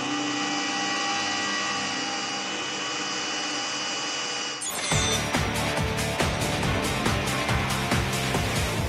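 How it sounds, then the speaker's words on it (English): A drill bores into the centre of a piston, which cuts easily: after a steady machine whine, the bit bites in abruptly and grinds on with a rough, rattling, close and loud cutting noise. "I'll just drill right in the centre. They do drill very easily, pistons."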